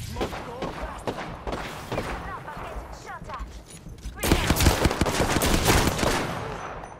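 Gunfire in the Apex Legends video game: bursts of rapid shots crackle through the first few seconds, then a louder, denser volley takes over in the second half, with a player talking over parts of it.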